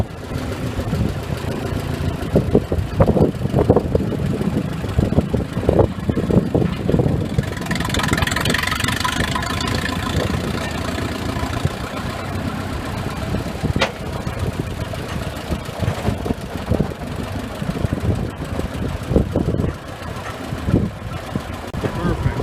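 A Minneapolis Moline 602 tractor engine idles steadily with a low, rough rumble while being loaded onto a trailer, loud and continuous, with people talking over it.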